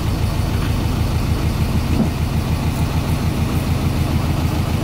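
A sailboat's engine runs steadily as the boat motors head-on into the wind near an anchorage, a loud, even low chugging drone with no pauses and no voices.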